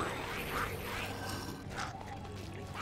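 Flock of chickens clucking and squawking in Kingdoms of Amalur: Reckoning, a steady busy chatter of bird calls with some mechanical game sounds mixed in.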